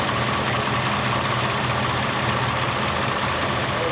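An antique car engine, freshly fitted with new fuel and exhaust systems and still smoking heavily, idles steadily and loudly up close with an even, slightly knocking rumble throughout, with an exhaust fan likely running nearby.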